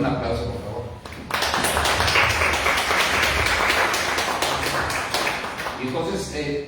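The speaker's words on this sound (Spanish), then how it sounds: "Dale un aplauso, por favor." Congregational applause at an evening church blessing service, dense sustained clapping from a crowd that starts abruptly and continues throughout, fairly loud and close, thinning slightly toward the end.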